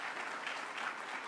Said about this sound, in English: That's a clap, folks.